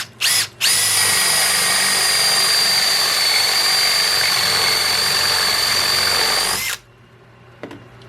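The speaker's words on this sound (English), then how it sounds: "And then we're going to drill another hole and see what we got." A power drill boring a hole with a custom-made spade bit, a loud, steady high-pitched whine held for about six seconds after a brief start, then cutting off abruptly.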